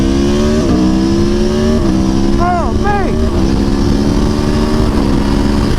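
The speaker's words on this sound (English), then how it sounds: "the stock exhaust does sound much better higher up in the RPMs" An Aprilia Tuono V4 1100 Factory motorcycle with stock exhaust revs loudly and steadily at high RPM, pitch rising and falling through several throttle blips, with a man's brief exclamation over it.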